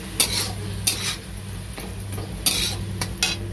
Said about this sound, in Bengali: টক দইটা দিয়ে একটু কষিয়ে নেবো।